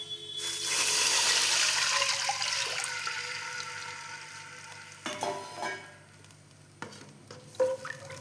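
Water poured into a hot pan of frying whole spices for egg biryani gives a loud hissing sizzle that gradually fades to a softer simmer, with a few clanks of the utensil near the end.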